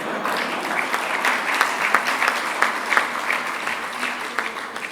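Sustained audience applause in a hall during a keynote address by a minister, dense steady clapping with a few sharper peaks, continuing without speech for about five seconds.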